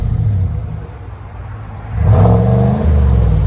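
A GMC/Chevy 6.2L V8 with an aftermarket exhaust idles with a deep, throaty rumble, then revs sharply at about two seconds and holds a loud, rich drone before easing slightly.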